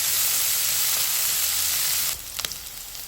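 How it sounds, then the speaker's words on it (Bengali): Chopped onions and chillies fry in hot oil in a pan with a loud, steady, close sizzle that drops to a softer hiss near the end as they are stirred. "এখন নেড়ে চেড়ে পেঁয়াজগুলো আমাদের ভেজে একটু নরম করে নিতে হবে।"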